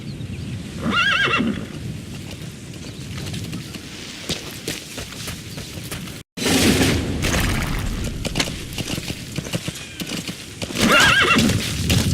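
A horse in the video game Metal Gear Solid V: The Phantom Pain whinnies loudly near the start and again at the end, with clip-clopping hooves and rumbling movement throughout; a brief silent gap falls midway.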